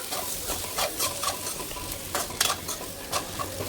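Chicken kothu idiyappam ingredients sauté in a hot pan, a loud, close sizzle under repeated brisk scraping and stirring strokes of a metal spatula, with no speech.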